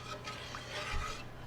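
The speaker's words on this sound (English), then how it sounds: "I'm going to stir it so that it won't have any lumps" A spoon stirs evaporated milk thinned with water in a pot on the stove, a soft continuous scraping and swishing rasp, close and fairly quiet, steady with no talking.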